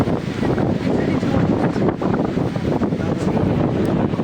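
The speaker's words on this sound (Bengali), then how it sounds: "এত বৃষ্টি হচ্ছে," Heavy rain and a storm pound a railway station at night, a dense unbroken roar of downpour and gusting wind with no pauses.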